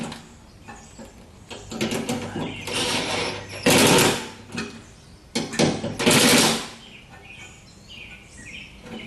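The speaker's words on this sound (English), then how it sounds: "the impact driver will make short work of tightening up those clamps." An impact driver tightens clamps on an electric fuel pump installation, giving several short loud rattling bursts of hammering that come and go between quieter pauses.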